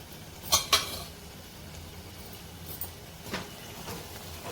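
Chopped onions and green chillies being stirred in a pan, heard as a few faint metal clinks and scrapes of a utensil against the pan, spread out over a quiet background.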